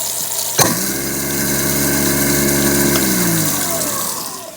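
A second-hand electric garbage disposal motor starts with a sharp click and spins up into a loud, steady hum with a rising-and-falling tone, then begins to wind down at the end.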